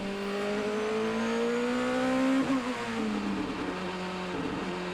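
A BMW DTM race car at Assen during qualifying, its engine note climbing steadily, then dropping at a gear change before rising again, heard from onboard with no talk.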